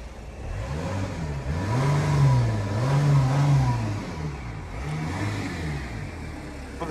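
Up close, the diesel engine of a Mercedes C300 CDI W204 revs in several rising and falling swells, climbing from idle to a throaty hum and dropping back, with no speech over it.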